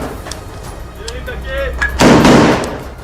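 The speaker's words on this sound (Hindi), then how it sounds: "इजरायल के सैनिक एक गोली चलाकर ही नहीं रुके, बल्कि उन्होंने एक के बाद एक कई गोलियां चलाई।" Israeli soldiers fire gunshots in Gaza. A sharp crack sounds amid quieter clatter and indistinct voices, then a loud, sustained blast erupts, close and harsh.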